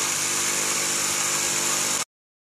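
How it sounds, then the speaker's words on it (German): A loud, steady buzzing jigsaw cuts a sink opening in a kitchen countertop continuously for about two seconds, then stops abruptly into silence. "damit ihr da mit der Stichsäge ansetzen könnt. Nun sägt ihr vorsichtig die Spüle aus."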